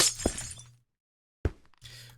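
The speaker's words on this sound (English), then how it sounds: "is it going to be really easy to blast through because it's glass and it shatters" Glass blocks shattering from an explosion in the Minecraft video game: a sharp burst of breaking glass that dies away, then after a silent gap a second crisp crack with scattered tinkling debris.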